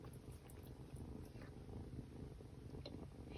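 Alfie the cat purring steadily up close, a continuous low rumbling throb that holds at an even level for the whole stretch with no voices over it.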